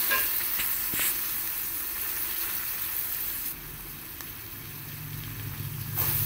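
Grated radish sizzling and frying in a hot pan after fenugreek leaves, a steady close hiss with stirring scrapes, the tone shifting midway as the radish goes in.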